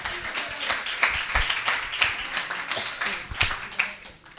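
Congregation applauding during a church service, a lively, uneven round of many hands clapping at close range, with some louder individual claps and a faint murmur of voices underneath.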